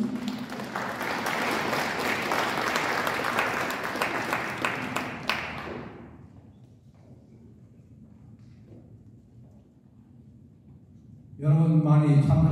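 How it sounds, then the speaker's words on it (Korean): Audience applause at a Korean community political rally in Atlanta, a steady loud clapping wash that fades out over several seconds, followed by a quiet room and then a voice starting to speak. "큰 박수로 맞이해 주십시오."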